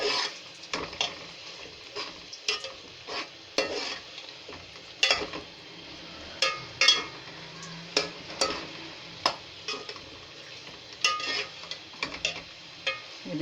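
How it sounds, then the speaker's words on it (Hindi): Minced meat with spices is fried in a pan with a low sizzle, while a spoon scrapes and knocks against the pan in regular stirring strokes, close and moderately loud, with no talking. "अब इसको मैंने भूनना है अच्छी तरह।"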